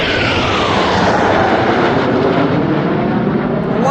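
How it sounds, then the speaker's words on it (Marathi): Nine Surya Kiran fighter jets fly over an air show in Nashik. A loud, continuous jet roar sweeps overhead for the whole stretch, with no talking. "आता 9 फायटर जेट येत आहेत."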